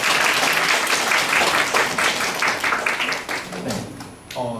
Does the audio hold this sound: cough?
no